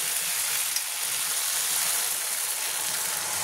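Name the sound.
water added to frying crab and potato curry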